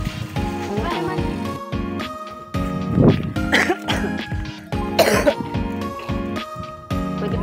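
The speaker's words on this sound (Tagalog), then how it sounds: "Pwede bang iwan ko dito yung ubo ko?" A person coughs a few harsh times during a visit to a cemetery, over steady tonal background music with other voices nearby.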